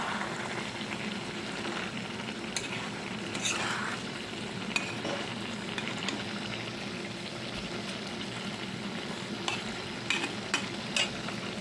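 Food frying in a home kitchen pan is stirred after the lid comes off: a continuous soft sizzle with occasional scraping and clinking strokes from the spoon, no speech.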